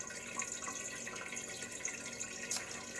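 Tap water runs steadily into a pot for a boiling-water bath, a soft continuous splashing rush with faint bubbly flickers, quiet and unbroken.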